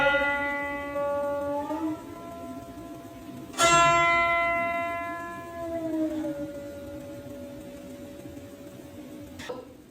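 Guqin notes plucked on the 7th string, the tone gliding upward, then sliding back down and ringing out, with a second sharp pluck midway and a final attack near the end, played alone.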